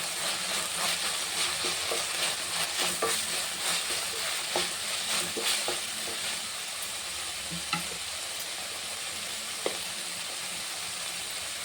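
Chilli powder frying in a pan for tomato bele bath, a continuous close sizzle and hiss with scattered soft scrapes and taps of stirring.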